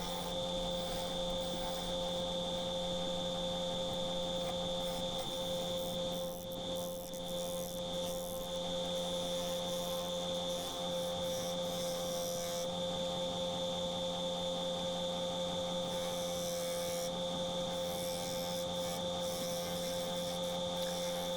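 A wood lathe spins a small walnut bowl at 2,300 RPM, giving a steady, continuous motor hum and whine with a faint scraping texture from the cut, running unbroken throughout.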